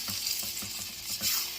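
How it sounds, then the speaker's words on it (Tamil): Chana dal frying in a pan is stirred, giving a faint steady sizzle with soft rhythmic scraping strokes, close up and without talk. "நல்லா மிக்ஸ் பண்ணி விட்டுக்கலாம் ஃபுல்லாக"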